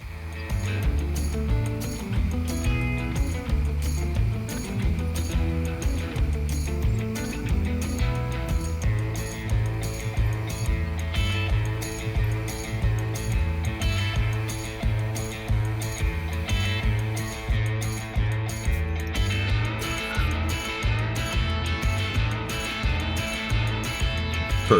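A DIY 5-axis CNC machine milling an 8mm aluminum plate gives a steady, rapid mechanical rattle with a repeating pulsing rhythm. It sounds close and fairly loud and runs the whole time without speech.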